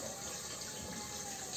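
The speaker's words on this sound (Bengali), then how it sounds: "আমি এখন কুকারটা ধুয়ে নেব" Water runs steadily from a tap while a pressure cooker is washed, a continuous close hiss and splash filling the short moment.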